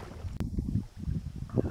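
Paddle strokes on a small fishing boat on a strip-mine lake in strong gusty wind, a few soft rhythmic splashes and thumps close by over steady wind noise on the microphone.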